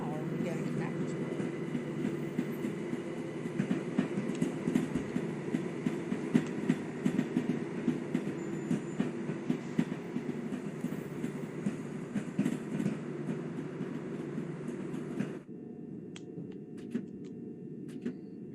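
A train runs in Train Sim World 2 on a London commuter route, a steady rolling rumble with clickety-clack rail beats that drops away sharply near the end, heard under occasional talk.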